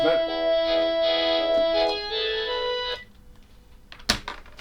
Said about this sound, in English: now the phone's going off.